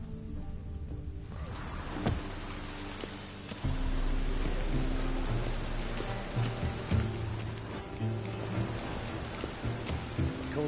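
Steady rain in The Witcher 3: Wild Hunt on PS4 hisses throughout, layered over low sustained tones and soft musical notes, with a few brief thuds and swells in loudness.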